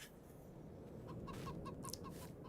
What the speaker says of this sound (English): So we've got the chickens there